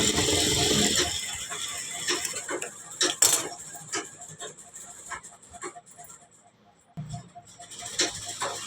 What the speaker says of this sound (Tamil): ஸ்ட்ரெயிட்டாக ஒரு தையல் போட்டுக்கலாம்.